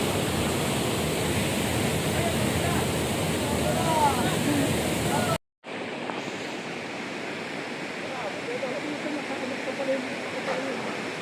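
Puray Falls, a small waterfall over a deep pool, gives a steady broadband rush that continues throughout, briefly cut off midway, with no clear voices.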